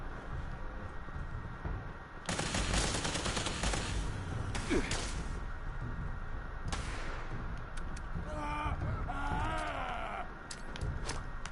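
Gunfire in the video game Fallout 76: loud, dense volleys of shots rattle on and off for about ten seconds, with steady in-game background noise and a few groan-like sounds between the bursts.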